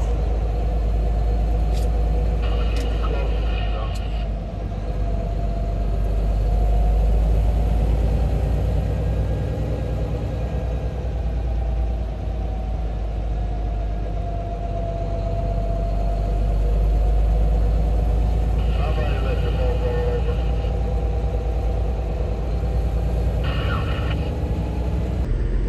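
Semi truck diesel engine labors up a hill, a steady deep rumble with rising and falling engine drone throughout, heard from inside the cab with no talking.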